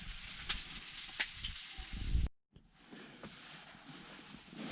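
Steak and potatoes frying on a wood stove inside a hot tent, with a loud close sizzle and crackle that cuts out abruptly, then comes back as a softer, steady hiss.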